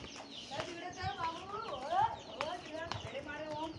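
Chickens cluck and squawk close by in a village yard, a busy run of short and rising calls while a person speaks over them.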